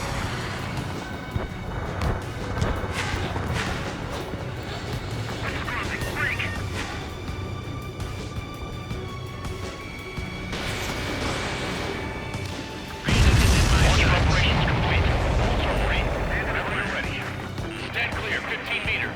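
Missile launches and explosions in the combat flight game Ace Combat 7, with busy game audio throughout and a loud, dense burst of blasts in the last few seconds, while a radio voice talks over the action.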